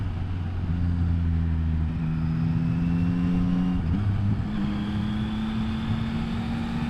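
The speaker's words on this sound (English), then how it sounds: "Oh, a little blip of the throttle." A 2021 Yamaha MT-09 motorcycle engine rises and falls through a quick throttle blip while riding, with a steady droning note that steps between pitches over constant wind and road noise, close and fairly loud.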